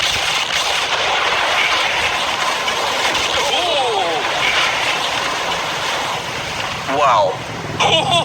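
A huge sea bomb explodes beside a yacht in a video game, a broad booming roar that swells and rolls on for several seconds, with a voice talking over it.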